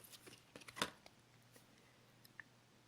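Oracle cards are shuffled by hand in a few quick papery riffles and flicks, soft and close, with one sharper snap among them, then faint small taps.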